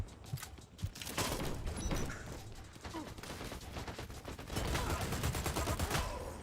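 Gunfire in the online shooter Dirty Bomb, dense crackling rapid bursts from several weapons layered into a continuous loud barrage.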